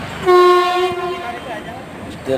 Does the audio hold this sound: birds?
no